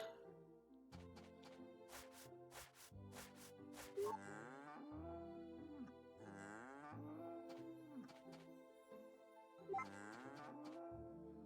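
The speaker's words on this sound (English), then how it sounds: "Happy evening, moo cows." Cartoonish cow moos from the farming game Story of Seasons: A Wonderful Life, three long drawn-out calls spaced a few seconds apart over a steady background music bed, no talking.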